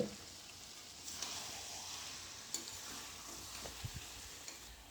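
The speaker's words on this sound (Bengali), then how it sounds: "সুন্দর করে কষানো হচ্ছে" Chicken pieces with spices sauté in oil in a pan, a quiet steady sizzle with occasional soft stirring scrapes and small pops.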